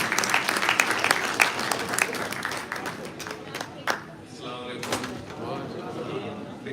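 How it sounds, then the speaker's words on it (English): An audience at a gala dinner applauds, with dense clapping that swells and thins over several seconds. Voices and a few clatters sound through it. "please give a big round of applause and welcome Abul Islam."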